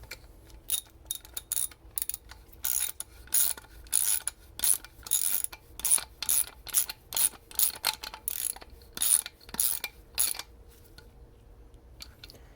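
Factory screws being driven into a 2012-2016 Chevrolet Impala 3.6 LFX cold air intake, heard as a long run of quick ratcheting clicks in bursts, close and fairly quiet, with no talking.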